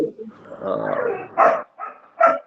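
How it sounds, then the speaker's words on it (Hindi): A dog barks nearby in a few sharp, loud barks with whimpering, whiny sounds between them, in a short burst with no clear speech. "कोई आ गया है, कोई आ जाता है, कुत्ता भौंकता है।"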